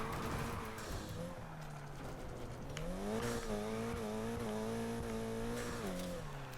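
A race car engine in the video game NFS Heat holds at full throttle, its steady drone rising in pitch and falling back with gear changes, loud and constant with faint tire noise underneath.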